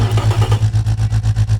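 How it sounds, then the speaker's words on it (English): A Nissan L28-SU engine in the Automation game fires up and settles into a loud, close, lumpy idle with a steady rapid pulsing throb. "so let's fire this beast up now."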